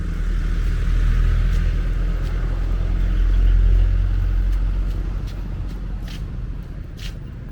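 A police-escorted convoy led by a logistics car carrying ballots and voting booths for a village head election drives past, a steady low engine rumble with road noise swelling midway and fading slightly, no voices.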